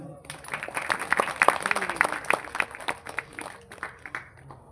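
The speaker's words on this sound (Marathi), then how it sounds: "टाळ्या वाजवा सर्वांनी." Audience clapping at a ceremony honouring a guest with a garland, scattered hand claps building and fading with voices mixed in.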